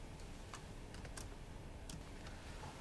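Typing on a computer keyboard, a handful of scattered, soft key clicks at irregular intervals over a faint steady hiss in a quiet room.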